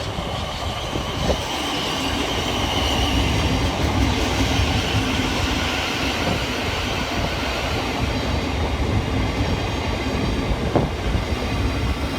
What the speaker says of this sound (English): Arriving in the opposite direction is 700 128, working the 1513 Southern and Thameslink service from Bedford through to Three Bridges.